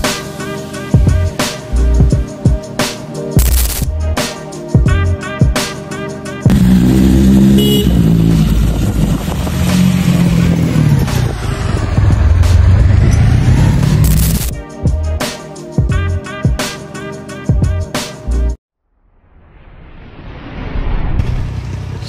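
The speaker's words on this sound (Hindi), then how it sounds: "अपने साथ दो बाइक्स हैं ट्रायम की स्ट्रीट ट्रिपल 765 और RS दोनों" Two Triumph superbikes, a Street Triple 765 and a Street Triple RS, ride past up close, their engines revving hard in loud repeated bursts with gear changes, then a brief silence before another rising engine roar.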